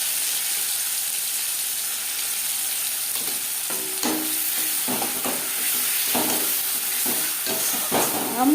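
Ground raw banana peel paste fries in a pan with a constant bright sizzle, while a utensil scrapes and stirs through it in several short, irregular strokes near the end.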